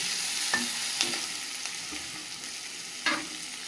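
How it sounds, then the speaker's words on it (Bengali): Puti fish curry cooking in a pan with tomato, sizzling steadily while a utensil scrapes and stirs in a few distinct strokes, close and alone without talking. "পুঁটি মাছটা মাখা মাখা রান্না করব, ঝাল বানাবো।"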